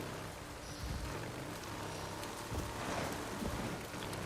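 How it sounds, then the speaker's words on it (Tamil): Heavy rain pours steadily in the open-world game Days Gone, a dense, even hiss of drops on surfaces with faint low rumbles and gusts underneath, no voices. "பயங்கரமாக மழை வர்றது போல்"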